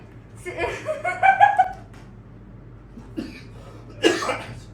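A couple of short coughing bursts, close by and fairly loud, separated by brief quiet gaps.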